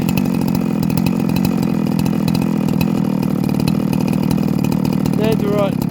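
A Husqvarna 372XT chainsaw with a 24-inch bar and a recently fixed clutch runs loud and steady throughout, its engine note wavering as it nears a stall, with brief whining tones near the end.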